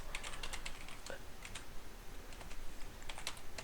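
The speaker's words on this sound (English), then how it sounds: "If I type in here and say," Quick, light keystrokes on a computer keyboard typing into a game's chat, a close, irregular patter of clicks over quiet room noise.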